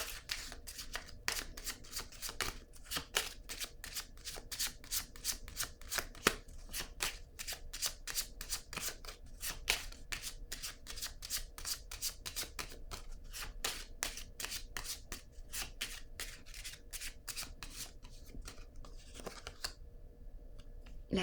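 Playing cards riffled and handled in a long series of crisp, rapid flicks and snaps, close and quiet, with short pauses between bursts and no talking.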